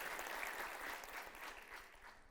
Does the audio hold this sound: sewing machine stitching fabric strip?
no